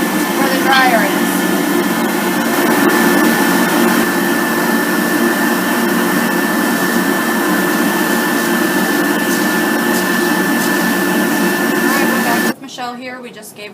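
A pet hair dryer blows steadily on a puppy during grooming, a loud constant whooshing drone with a faint tonal whine that cuts off near the end, followed by brief voices.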